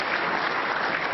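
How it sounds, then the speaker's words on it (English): Applause from a snooker crowd at the 2013 World Championship final at the Crucible, for a good safety shot: a dense, even burst of clapping from many hands, steady and fairly loud throughout its brief span. "As a crowd appreciate that good safety"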